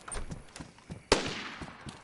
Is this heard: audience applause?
no